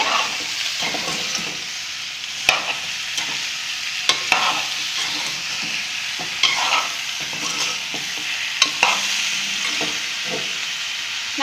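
Mango pachadi is stirred in a hot pan, a continuous loud sizzle and hiss with scattered scraping knocks of the spoon against the pan, close up and free of speech.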